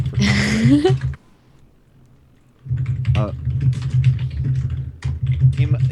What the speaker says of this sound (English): He's typing to us now.